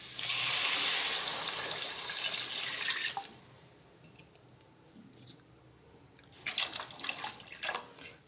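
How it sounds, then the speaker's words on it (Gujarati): Water is poured from a glass into a pan of chole masala, a few seconds of splashing and gushing, then a quiet pause and a shorter second pour with clinks of utensils. "તો હવે આપણે એમાં પાણી એડ કરવાનું છે."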